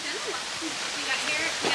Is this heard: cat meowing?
no